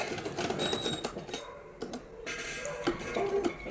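A sewing machine stitches the sleeve of a boys' night suit shirt, a steady fast ticking run of needle strokes with small clicks, close and fairly quiet, with no talk over it.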